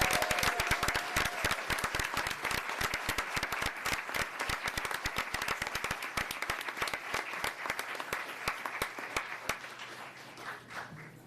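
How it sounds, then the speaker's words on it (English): Applause at a school board meeting for a principal and student, a room of people clapping with distinct individual claps, steady and fairly close, fading out toward the end. "can we have a huge round of applause for this principal and amazing student?"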